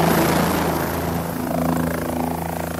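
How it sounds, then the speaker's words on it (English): A helicopter flies overhead with a steady, loud rotor thump and engine drone, no voices. "The helicopter's on its way."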